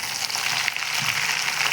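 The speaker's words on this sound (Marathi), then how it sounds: "लसण आणि खोबऱ्याची पेस्ट घेऊयात टाकून." Garlic and coconut paste frying in hot oil left over from frying paneer, for a matar paneer masala: a loud, continuous close-up sizzle with crackling, heard alone.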